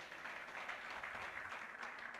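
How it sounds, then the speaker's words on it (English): An audience at a criminal justice academy moot competition gives a round of applause for the students, a soft, dense patter of many hands clapping steadily throughout, faint and somewhat distant, with no talk. "Can we give them a round of applause, please?"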